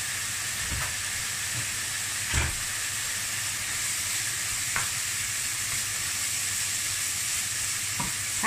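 Minced pork and bamboo shoot filling is stir-fried with a constant close hiss, punctuated every couple of seconds by a soft knock of the spatula against the pan.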